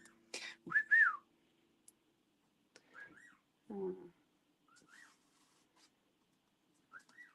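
Short, quiet whistled phrases come in scattered bursts, rising and falling in pitch, separated by silence and a few soft rustles.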